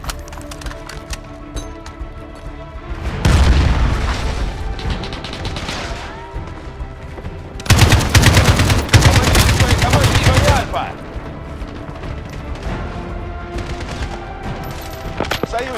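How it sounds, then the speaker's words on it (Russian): In a Call of Duty Modern Warfare multiplayer match, a cruise missile strike and gunfire produce two loud, dense bursts of explosive and rattling shots, separated by quieter stretches of distant game ambience. "Союзник пустил крылатую ракету."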